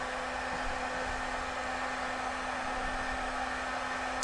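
Fire roaring inside a pellet grill, a steady, even rushing hiss with a faint constant hum underneath, continuous and fairly close throughout with no talking.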